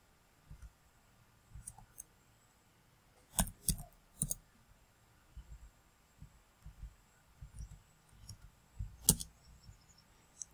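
Sharp, quiet mouse clicks in sparse clusters, several coming in quick doubles and triples, over a faint low hum in a still room while working in Aspen HYSYS process simulation software.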